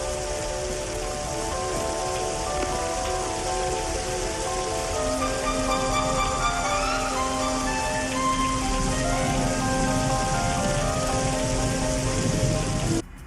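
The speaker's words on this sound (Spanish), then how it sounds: "Esta escena comienza con el sonido de una fuerte lluvia." Heavy rain pours steadily on a street in the opening scene of Stephen King's It, a dense, unbroken hiss with soft sustained musical tones rising faintly beneath it.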